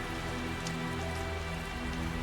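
Steady rain falling in the video game Tales of Zestiria, a dense continuous hiss of drops with a low droning background underneath, constant and unbroken throughout.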